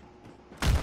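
A single loud blast of a shot in the co-op video game It Takes Two, arriving suddenly after a quiet stretch of low background hum.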